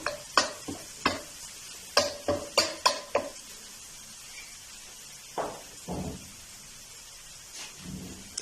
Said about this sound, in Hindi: लहसुन की अच्छी सी खुशबू होने तक जो है वो इसको पकाएंगे।